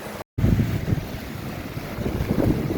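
Violent floodwater rushing and churning during a severe flood, a loud, continuous roar of flowing water with gusting wind buffeting the microphone after a brief cut at the start.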